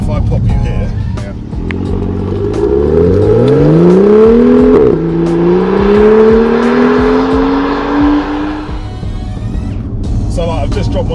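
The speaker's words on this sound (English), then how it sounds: "Let's listen to the exhaust." A BMW M2 revs loudly from outside, its exhaust note climbing in pitch over several seconds, briefly shifting, then rising again before dropping off, with a voice talking faintly around it.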